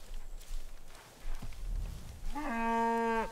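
A cow in the video game Far Cry 5 lets out one loud, close, drawn-out moo near the end, after rustling and a soft thud.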